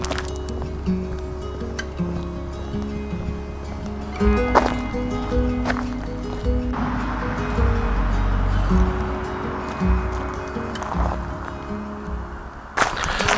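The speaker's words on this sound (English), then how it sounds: "There's a bit of wind though, unfortunately, so it's probably affecting the video" Wind gusting outdoors on a New Forest woodland walk near the Knightwood Oak, a steady low rumble buffeting the microphone with rustling surges and a sharp gust near the end.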